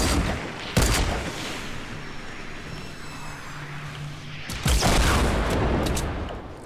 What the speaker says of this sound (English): He's firing off rockets at everybody.